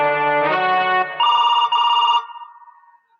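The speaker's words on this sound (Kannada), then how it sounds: "ಆ ಪಕ್ಕದ ಮನೆ ಪದ್ಮಾಳಿಗೆ ಫೋನ್ ಮಾಡಿ ಬರ ಹೇಳು, ನಮ್ಮ ಜೊತೆ ಆಡಿ ಕುಣಿಯಲು." A telephone rings during a Kannada village stage play as an outgoing call is placed: a steady, bright, bell-like ringing tone lasting about two seconds that then fades and trails off, with no one speaking.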